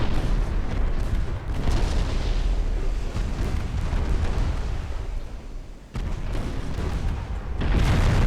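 Heavy naval gunfire from six-inch and twelve-inch guns in a naval video game rumbles as a continuous, loud, booming roar with a brief dip before resuming.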